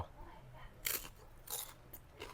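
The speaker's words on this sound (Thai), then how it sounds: "จัดให้ตามคำขอหมูกรอบ กรอบทะลุจอ" Crispy pork belly is bitten into, giving several sharp, close crunches in quick succession with short pauses between bites.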